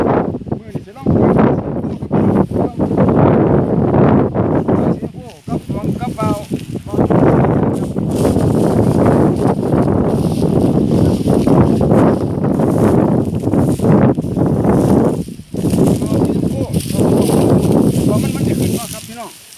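Strong wind roars and buffets against the microphone in an open field where a kite is being flown, continuous and loud with gusty swells, while someone talks over it.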